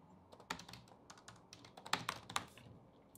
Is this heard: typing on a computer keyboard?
yes